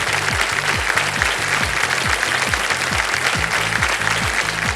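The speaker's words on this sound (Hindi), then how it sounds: "ताली भी बज गई जनता की ओर से।" Studio audience applause on the Hindi TV quiz show KBC, a steady loud wash of clapping that fills the whole stretch, with a repeating low musical pulse beneath it.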